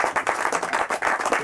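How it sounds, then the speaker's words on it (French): Applause breaks out for the organisers of a float-tube lure fishing competition, a dense, steady patter of many hands clapping at close range with no voices over it. "on peut applaudir à la fois et Brice et Philippe"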